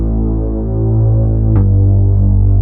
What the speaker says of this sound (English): I add this bass, follow the lowest note of the chord progression